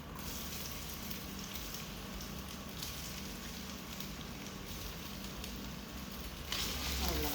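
Cut potatoes fry steadily in a pan with a continuous, dense sizzle and crackle that holds level throughout, growing slightly louder near the end.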